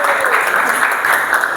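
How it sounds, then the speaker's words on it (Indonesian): Students in a classroom clap for their classmates, a loud, close, continuous patter of many hands filling the short moment without speech. "tepuk tangan dulu untuk teman kalian ya"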